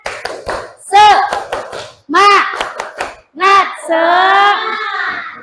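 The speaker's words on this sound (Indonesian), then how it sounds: "Sekali lagi tepuk semangat" Schoolchildren repeat the 'tepuk semangat' clap chant during a lesson, crisp clap bursts alternating with bright chanted phrases and ending on a long held vocal note.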